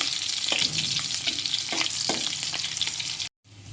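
Green chillies fry in hot oil with cumin in a pan, giving a steady close sizzle broken by a few scraping stirs, then cutting out briefly near the end.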